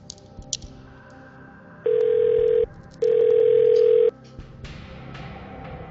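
A phone-a-friend lifeline call in a Who Wants to Be a Millionaire video game plays two loud, steady telephone ringback tones, one short and one longer, set apart by brief pauses over quiet game background.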